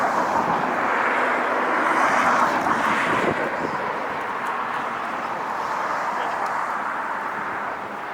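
A French Bee wide-body airliner passes at LAX with a steady, loud jet roar that stays strong for several seconds and then slowly eases off, heard from outdoors at an airport.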